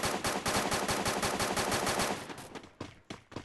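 Rapid automatic gunfire in the shooter game Free Fire, a fast burst of evenly spaced shots for about two seconds, then a few separate single shots trailing off, loud and close with no talking.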